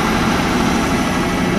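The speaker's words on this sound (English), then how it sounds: "loading it in the truck" Truck engine idling while being loaded with dirt during pond repair work, a loud, steady low rumble close by, with no break.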